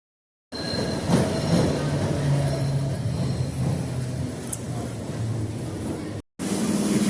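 An older suburban train in Hungary running along the rails: a steady loud rumble with faint wheel squeal and hum throughout, broken by a brief cut to silence before the rolling noise resumes.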